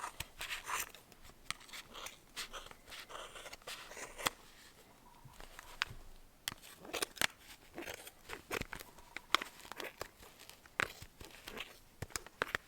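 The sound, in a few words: scissors cutting super bulky yarn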